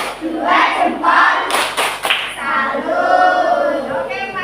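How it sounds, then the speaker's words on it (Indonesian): A class of teacher trainees performs a rhythmic clap salute, a few quick, sharp claps sounding in a burst amid loud chanting voices that carry the routine. "beri tepuk salut kepada kelompok serigala"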